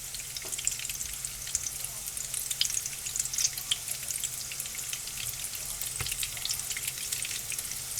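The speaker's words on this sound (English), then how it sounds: "And you just fry them until they're crispy." Potato tacos fry in a pan until crispy, giving a steady, close hiss of sizzling oil with scattered pops and crackles throughout, no voices over it.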